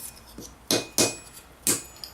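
A leather strap on medieval armour is tapped to crease it, giving three sharp, close knocks at a steady pace with faint lighter taps between them, no speech.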